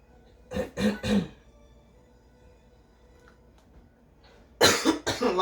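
Someone indoors coughs in two bursts, three quick close coughs at first and then a louder second round of harsh coughs after a quiet pause.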